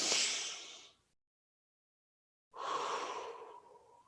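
Slow, audible breaths during a guided grounding breathing exercise: one breathy exhale fading out, a pause of silence, then a longer drawn-out exhale with a soft tonal edge, close and clear with no talking.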